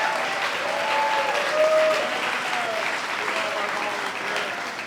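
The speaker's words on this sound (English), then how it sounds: "Please give them a round of applause." A crowd of brunch guests at a Pride kickoff event breaks into sustained applause, dense clapping filling the room steadily from start to end with a few voices mixed in.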